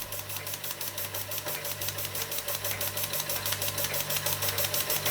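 A Czechoslovakian Ites model steam engine runs steadily with a fast, even rhythmic chuffing and a faint hum, purring along close by on its own with no talk.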